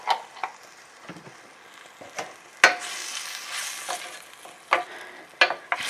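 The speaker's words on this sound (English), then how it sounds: "So I have the onion cooking." Onion frying in olive oil gives a soft, steady sizzle up close, broken by sharp scrapes and clacks of a utensil stirring the pan.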